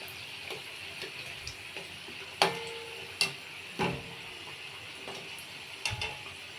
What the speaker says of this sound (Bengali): বারবার উল্টে পাল্টে ভাজতে হবে এইভাবে।